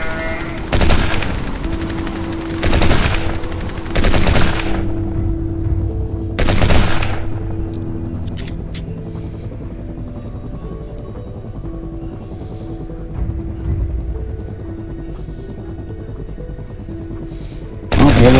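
Gunshots in the Sniper 3D Assassin shooting game: several loud separate blasts spaced a few seconds apart over a steady game soundtrack hum, with a sharp final shot at the end.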